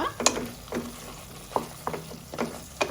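Rabbit meat frying with ginger and garlic in a pan, a steady low sizzle broken by several scraping stirs of a spoon, close and clear with no talk.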